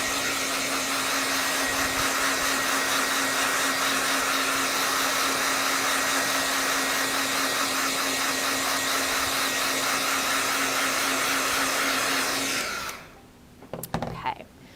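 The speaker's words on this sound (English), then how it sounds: "I'm going to grab my hairdryer and go ahead and dry it." A handheld hair dryer blows steadily on wet acrylic paint on a painted Valentine's cupcake, a loud, constant whooshing drone with a faint whine that runs alone for about twelve seconds, then switches off, leaving a few soft handling clicks.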